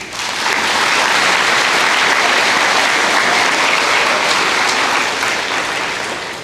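An audience at a high school academic awards banquet gives award-winning students a round of applause, a dense, loud, sustained roar of clapping that swells in quickly and fades slightly at the end.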